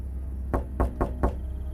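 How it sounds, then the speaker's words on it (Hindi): Four sharp knocks rap on a house window at night, evenly spaced and close, each a dull hollow thud standing alone over a low steady background hum. "अचानक घर की खिड़की पर किसी ने दस्तक दी।"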